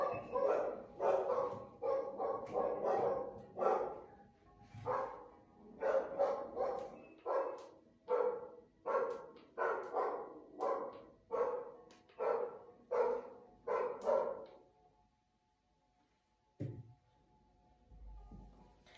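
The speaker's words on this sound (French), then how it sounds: "j'avais mes chiens qui aboyaient" A dog barks repeatedly in steady bursts for about fifteen seconds, fairly close, then falls silent apart from a brief final yip.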